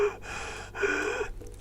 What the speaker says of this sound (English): You just gotta listen to my stale breathing when I forgot to talk.